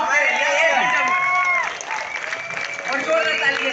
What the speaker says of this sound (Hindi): जोरदार ताली देके प्लीज इनका सम्मान कीजिए